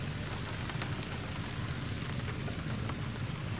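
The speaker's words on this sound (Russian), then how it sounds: "Начался конкретный ливень, ребят." Heavy rain shower drumming on a car while people sit inside, a dense, steady hiss of drops hitting the surface close around, with no talking.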